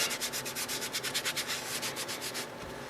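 Paper towel wiping the chassis of a 1940s electrostatic television set: a rapid, rhythmic series of close, dry rubbing strokes, about a dozen back-and-forth swipes, steady and alone.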